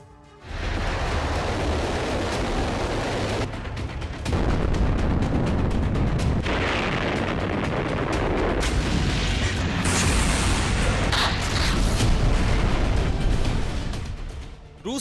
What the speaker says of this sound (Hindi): रूसी धमाकों से दहल रही यूक्रेन की जमीन का स्याह सच महाविनाश है।